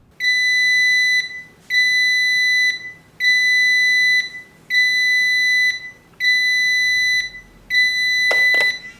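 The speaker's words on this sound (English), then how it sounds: "This alarm is actually pretty quite loud." A Sandman alarm clock with USB hub sounds in six loud, evenly spaced electronic bursts, each a sustained shrill tone lasting about a second, with a brief click near the end.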